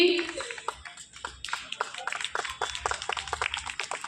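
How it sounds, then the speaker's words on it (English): Applause for a student from class UKG at a school event, scattered hand claps rising and falling over a few seconds, fairly faint with background chatter. "Let's give them a big round of applause"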